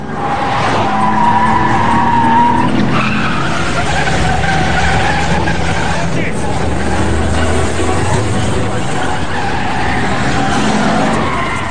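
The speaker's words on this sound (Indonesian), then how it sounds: "Kejar-kejaran pun terjadi dari ujung danau hingga ke tengah kota." An action film car chase running from a lakeside into a city centre, with loud, continuous tyre skids and squeals over revving engines and a dense dramatic score, staying intense throughout with voices mixed in.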